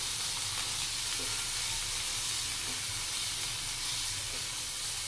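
A large chopped capsicum fries in a pan, giving a constant, loud, hissing sizzle with faint stirring taps underneath.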